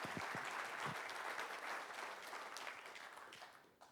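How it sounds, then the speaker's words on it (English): Conference attendees give a group a round of applause, dense clapping that is faint and distant overall, slowly tapering off toward the end. "if you guys would please give this group a round of applause."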